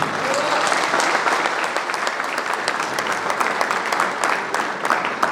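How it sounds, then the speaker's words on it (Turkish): Sustained applause from an audience in a hall at a Denizli business meeting, a steady, dense wash of many hands clapping at once with no speech over it. "salondaki herkese bir alkışlayalım ve tebrik edelim"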